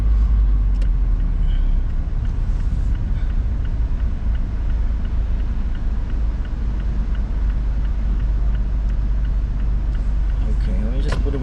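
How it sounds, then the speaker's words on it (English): Inside a car driving through a city, a steady low engine and road rumble fills the cabin continuously, with faint traffic noise and occasional small knocks. "We're only driving through the city, so it's fine."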